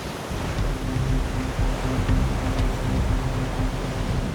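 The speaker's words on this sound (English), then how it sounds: "Huge hurricanes batter the coastline of the supercontinent." Waves pound a coastline in a huge hurricane, a steady, dense roar of surf mixed with wind that holds loud and unbroken throughout.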